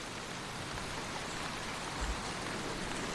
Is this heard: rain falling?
yes